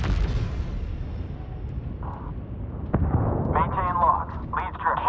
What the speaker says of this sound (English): We're hit. Taking fire.